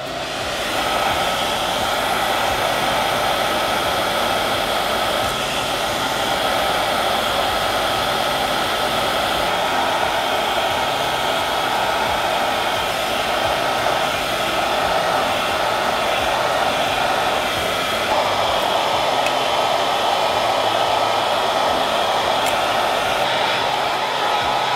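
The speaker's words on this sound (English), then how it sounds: "add a little bit of curl in it with the brush and the hairdryer." A hairdryer blows steadily and loudly throughout while a brush is used to add curl to a man's short hair, a constant airy whoosh with little change.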